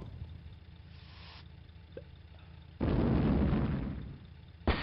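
Katyusha rocket artillery fires in the World War II strategy game Sudden Strike 1 Gold, Soviet campaign, with a sustained roaring rush of launch noise that fades, then a short, sharp burst at the end.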